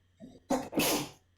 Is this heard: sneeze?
yes